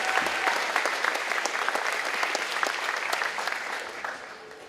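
An audience applauding scholarship recipients at an awards event, a dense, loud burst of many hands clapping that holds steady, then begins to thin and fade toward the end, with a few faint voices underneath.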